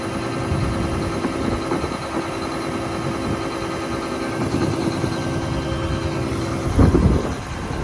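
A John Deere S670 combine harvester diesel engine idling while warming up, a steady close rumble with a constant hum and a brief louder thump near the end.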